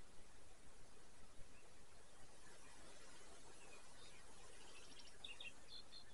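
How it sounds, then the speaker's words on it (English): The Kern River flows in a steady, broad rushing wash throughout, while a faint, distant bird chirps briefly near the end. "Nothing. Just the river. Occasional bird. I can hear one way off in the distance."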